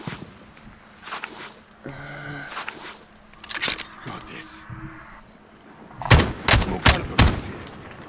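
Gunfire in Call of Duty Modern Warfare Warzone, with a cluster of loud, sharp shots near the end after quieter game sounds and scattered clatter, while players talk over it.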